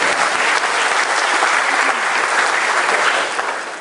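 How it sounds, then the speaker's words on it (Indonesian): A large audience at Indonesia's 66th National Cooperatives Day ceremony in 2013 applauds the Minister with dense, sustained clapping that holds steady and loud, tapering slightly at the close. "sekali lagi mari kita berikan aplaus pada Menteri"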